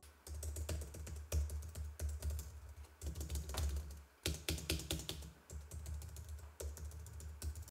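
Someone types steadily on a Logitech MX Keys keyboard with low-profile chiclet switches, giving a close, continuous patter of soft tactile keystrokes with brief pauses.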